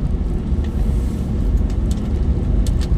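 Jammed road traffic in Ciledug hums steadily close by, a low continuous rumble of idling and creeping engines with brief hiss bursts and wind buffeting.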